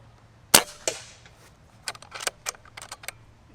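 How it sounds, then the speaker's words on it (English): A bullpup air rifle fires a few sharp cracks early on, followed by a cluster of quieter metallic clicks and ticks at moderate distance with no talking. "you can see pressure going down as we shoot the gun"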